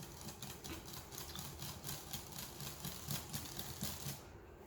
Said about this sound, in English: Get a good mix, twist the whisk to the side